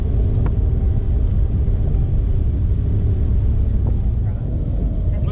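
Steady, loud low engine rumble from inside a car driving toward an autocross course, continuous road noise with no talking.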